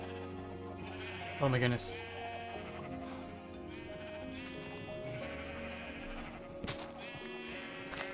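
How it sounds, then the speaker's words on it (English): Minecraft sheep bleat in short bursts, one loud call standing out near the start, while a person talks over the game sounds. "I tried to coax"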